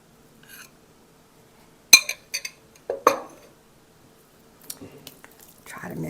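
Sausage tipped into a casserole dish and stirred for a kielbasa and linguine casserole, giving a few sharp clinks and scrapes of utensil on dish with soft squishy handling, close by, with faint whispered talk in places.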